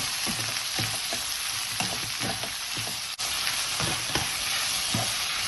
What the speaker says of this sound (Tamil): வெங்காயம் மெல்லிய பொண்ணுரத்துக்கு வதங்கி வரணும் அது மட்டும் வதக்குவாங்க